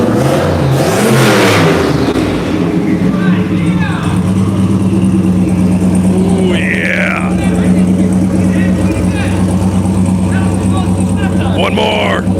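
A Nissan S13 show car being readied for drifting, its engine reworked by a tuning shop, hums and revs steadily throughout, with people talking loudly over it.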